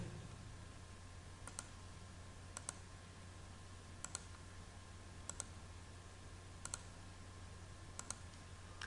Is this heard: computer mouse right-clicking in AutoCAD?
yes